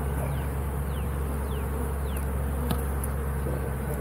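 A steady, dense buzz from a swarm of honeybees near a hive, continuous and fairly loud throughout with faint extra insect whines passing by, with no talking.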